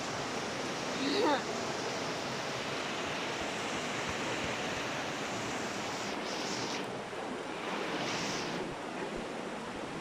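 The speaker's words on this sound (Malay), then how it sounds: "Inilah sungai yang mengalir dari dalam" A river flows out of a limestone cave at Gua Kelam in Perlis, producing a steady broadband rush of water that stays constant throughout, with faint voices briefly audible.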